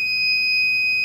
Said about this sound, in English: if you hear that sound, a long beep, and this light stays on, then it did not get out of hotkey mode